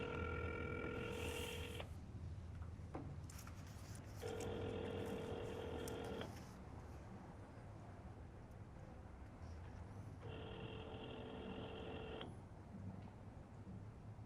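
A telephone call ringing out on the line: repeated electronic ring tones in evenly spaced bursts with silent gaps between them, faint and heard alone.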